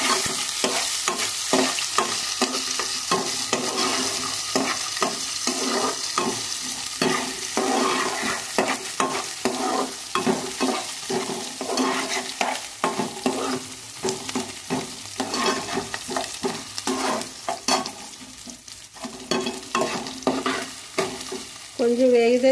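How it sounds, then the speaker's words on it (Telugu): Chopped onions and green chillies frying in a pan for a beerakaya curry, continuous loud sizzling with a steady rhythm of spatula strokes scraping and stirring throughout, no talking. "ఆనియన్స్ వేసాను. పచ్చిమిరపకాయ వేస్తున్నానండి. కాస్త వేయించుకోవాలి."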